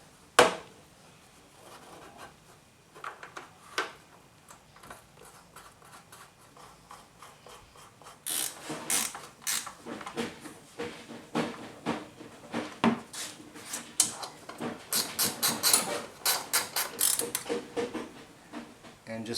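A ratchet snugs bolts on a Briggs & Stratton Intek engine while the dipstick tube is refitted, quiet clicks at first, then quick bursts of ratcheting in the second half with metallic taps.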